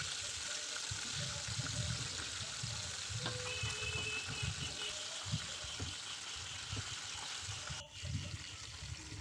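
Meat chops frying in a pan, a steady broad hiss of sizzling oil that fills the background throughout, with a person talking over it.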